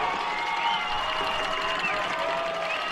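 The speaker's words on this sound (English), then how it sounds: "This sideline is hyped." A college football crowd on the sideline at a night game cheers and applauds steadily, a dense, continuous roar of many voices with scattered shouts and whistles and no clear breaks.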